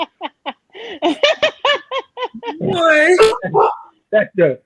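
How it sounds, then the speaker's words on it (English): A dog gives a few short, sharp barks mixed in with people talking and laughing nearby. "That dog bark as soon as he spoke them words out of his mouth."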